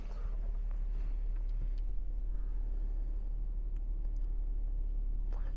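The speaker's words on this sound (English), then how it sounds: "I'll just start the engine." A 2018 Jeep Cherokee engine idles, giving a steady, low, even rumble close by and alone for several seconds, with no distinct start-up crank evident.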